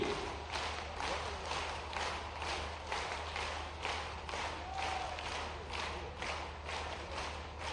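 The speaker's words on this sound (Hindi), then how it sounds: "जोरदार तालियों से आमंत्रित करते हैं मध्य प्रदेश के मुख्यमंत्री माननीय मोहन जी यादव" Sustained applause from a large crowd at a tribal student encouragement ceremony in Madhya Pradesh, welcoming the Chief Minister; steady dense clapping with rhythmic pulses throughout, moderately loud and distant-sounding, with no clear speech.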